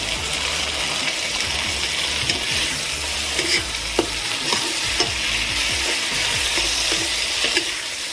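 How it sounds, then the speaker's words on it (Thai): Food sizzling and hissing in a hot wok with a little added water and seasoning powder while a utensil scrapes and clinks against the pan in an irregular stirring rhythm. "จากนั้นก็ผัดนะครับ"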